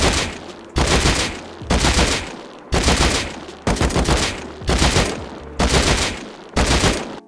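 Seven evenly spaced full-auto sprays of about a second each from a rifle in the survival video game Rust, loud and close, each burst cut off sharply before the next with brief quiet gaps between.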